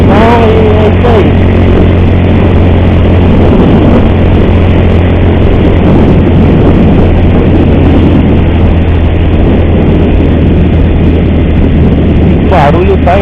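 A motorcycle engine with a reported strange noise from worn parts drones loudly and continuously while riding on the road from Boa Esperança do Sul to Jaú, a steady close rumble with a rider talking over it.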